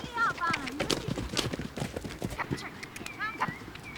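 Horses setting off one after another on a riding course, young riders including a pony club instructor, hooves clip-clopping in brisk irregular beats close by, with voices speaking over them throughout.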